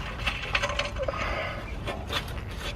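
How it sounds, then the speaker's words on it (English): A big 16mm wrench works the control arm nut on a BMW E60 rear suspension, giving repeated metallic clicks and scrapes of tool on fastener, close up and fairly quiet, with no talking. "obviously I can then undo the nut with the big 16mm wrench then"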